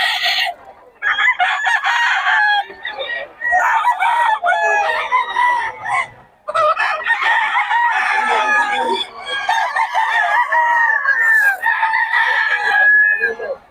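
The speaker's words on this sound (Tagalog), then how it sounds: "Boss Albert, manok mo?" Roosters crow repeatedly and loudly up close at a rooster sale in Bocaue, several overlapping calls with short clucks between them, one bird after another across the scene.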